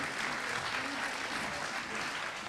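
Audience at a benefit concert for Ukraine in Universal Hall, Findhorn, cheering and applauding a singer, with steady, dense clapping that stays loud throughout.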